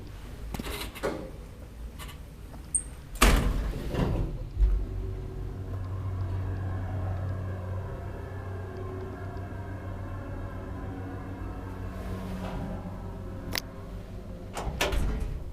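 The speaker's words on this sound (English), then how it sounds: "Doors open normally." An old Kone roped hydraulic elevator in an apartment building: doors clunk and slide, then a steady low mechanical rumble runs underneath before more door thuds near the end.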